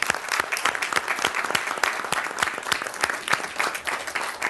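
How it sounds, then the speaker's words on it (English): Steady, enthusiastic applause from an audience at a school board meeting, welcoming new school principals; dense clapping fills the whole stretch at an even loudness, with no voices. "let's give a big round of applause to our brand new principals as well"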